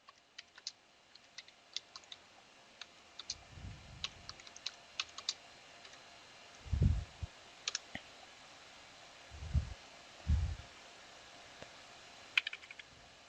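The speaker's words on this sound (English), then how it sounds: "Type the following command." Fingers type on a computer keyboard while entering a server command: quiet, irregular key clicks in scattered bursts, with a few heavier thumps of individual keys standing out against a faint background.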